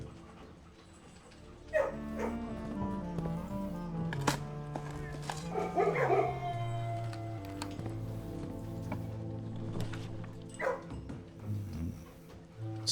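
A dog in the video game Blue Prince gives a few yips and whimpering barks over looping background music, with some short game effects scattered across the scene.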